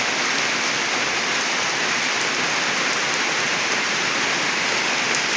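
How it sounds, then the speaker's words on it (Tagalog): Heavy rain pours down in Mawab, Davao de Oro, Philippines, in a steady, dense hiss, constant and loud with no breaks and no voices. "sana tumigil na rin ng ulan kasi dalawang araw nang umuulan"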